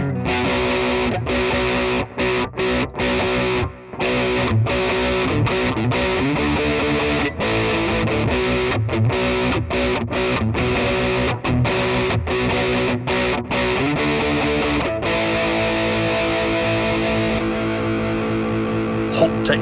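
Electric guitar played through the US Drive distortion preset on a Mooer Prime P1 pedal, a continuous driven riff with chords and rhythmic stops, loud and close, alone without talk.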